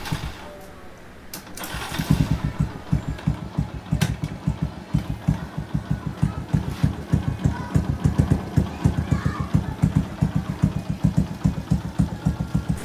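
A Yamaha YTX 125 scrambler motorcycle fires up after a few quiet clunks, then settles into a close, even, rapid single-cylinder putter that continues to the end.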